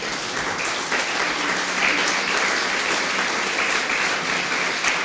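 A congregation at a Spanish-language church service breaks into sustained applause, a bright, even crackle of many hands clapping that stays steady and fairly loud for several seconds.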